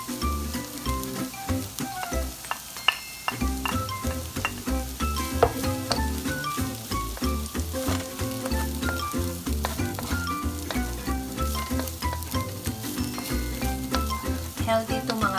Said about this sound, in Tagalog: luto na yung mga gulay natin. try na natin ilagay yung quinoa.